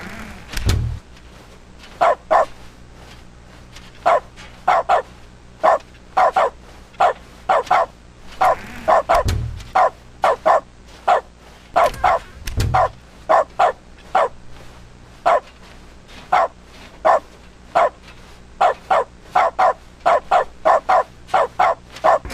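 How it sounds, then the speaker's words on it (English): A dog barks steadily in the video game Stanley Parable Ultra Deluxe, with short, loud, evenly spaced barks repeating about once a second, and a couple of deeper thumps among them. "Stanley is just now a dog."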